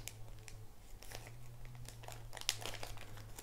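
Paper being folded and creased for an origami crane, with soft crinkling and scattered crisp rustles close by, one sharper crunch midway, over a low steady hum.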